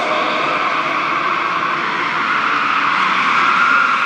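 A BMW lapping an indoor arena track at a live motoring show, its engine note a steady loud roar with a throttle blip on a downshift, continuous and close throughout.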